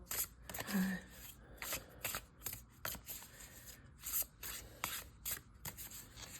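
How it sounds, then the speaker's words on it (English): Tarot cards being shuffled and drawn from a deck for a reading, giving a run of soft, quiet riffling and sliding rubs in short bursts, close by with no talk. "I think I want to pull 2 more cards to start with this first row"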